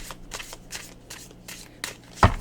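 A deck of oracle cards is shuffled by hand close up, with quick papery riffles and slaps repeating in short bursts, ending in a louder clack.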